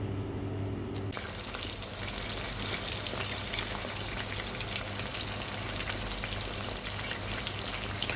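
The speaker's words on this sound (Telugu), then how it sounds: "ఇలా నూనె తక్కువ వేసుకుని ఫ్రై చేసుకోవాలి" Chicken pieces fry in a small amount of oil, giving a steady close-up sizzle and crackle that continues throughout with no talking.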